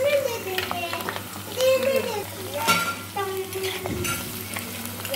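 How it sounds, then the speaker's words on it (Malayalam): Garlic, ginger, curry leaves and chili hit hot sesame oil, already holding mustard seeds, for a Kerala-style bitter gourd pickle. A loud, close sizzle runs under a spoon stirring and scraping the pan, with a voice in the background. "ഇപ്പോൾ നല്ലെണ്ണ ചൂടായിട്ടുണ്ട്. നേരത്തെ നമ്മൾ കടുക് ഇട്ടിരുന്നു. നമ്മൾ അരിഞ്ഞ സാധനങ്ങൾ, വെളുത്തുള്ളി, ഇഞ്ചി, വേപ്പില, മുളക് എന്നിവയെല്ലാം ഇട്ട് കൊടുക്കാം."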